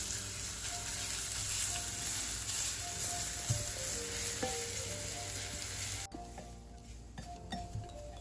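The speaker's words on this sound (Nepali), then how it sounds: "अब यो राखेपछि पनि एकछिन यो लसुन रातो हुन्जेलसम्म भुट्नुपर्छ।" Garlic frying in oil for gundruk soup on low heat, a soft continuous sizzle with faint stirring scrapes, close but quiet, dropping to a lower crackle near the end, with no talking.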